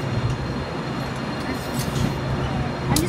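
Diesel locomotive OL935 idles and rumbles steadily in the 38th Street rail yard, a continuous low drone close by with faint metallic rail noise over it.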